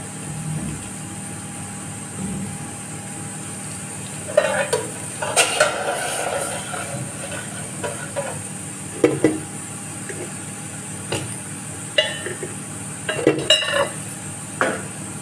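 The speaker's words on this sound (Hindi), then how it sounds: "दाल में तड़का लगा रही हूँ।" Kitchen clatter with intermittent sizzling bursts as ghee tempering is added to lentils, metal utensil clinks against a pan, close by, over a steady low hum.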